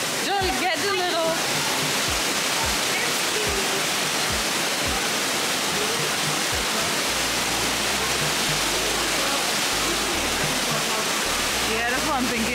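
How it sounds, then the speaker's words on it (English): A small waterfall at St. Nectan's Glen in Cornwall pours with a constant loud rushing hiss, close by, while people talk briefly at the start and end over the noise of the falling water. "It's a nice little waterfall or whatever."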